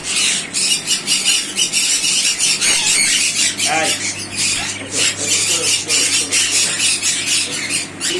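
Exotic pet birds squawk and squeal in an aviary, with harsh repeated calls throughout and a voice talking alongside.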